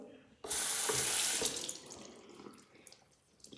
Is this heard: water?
yes